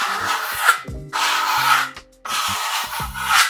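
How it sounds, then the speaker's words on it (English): Limewash paint being burnished on a wall with a hand tool: bursts of broadband scraping rub in steady strokes, close and fairly loud, with a brief pause between passes and no talking. "A small roller for application, and right after that, we burnish it."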